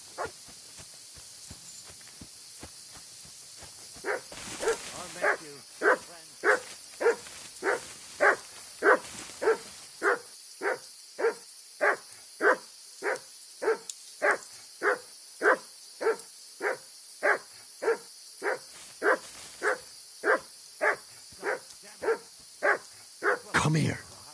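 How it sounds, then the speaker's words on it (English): A dog in the video game Kingdom Come: Deliverance II barks steadily, more than twenty sharp, evenly spaced barks in a long run, close and loud over a faint background with a few brief voice sounds near the start. "Sit and bark."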